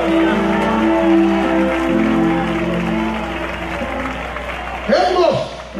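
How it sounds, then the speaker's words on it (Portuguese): Church congregation at an outdoor evangelical celebration applauding in praise, clapping and crowd noise mixed with music and a voice, followed by a brief louder burst near the end. "aplaude a Jesus de Nazaré"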